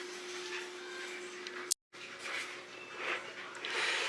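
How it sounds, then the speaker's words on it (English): A household dryer runs with a steady droning hum and a whooshing tumble. The sound cuts out for an instant partway through. "y'all can hear my dryer running"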